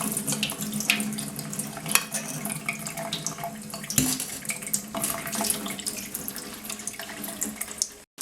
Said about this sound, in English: we've washed it through the sieve to the point where it's running clean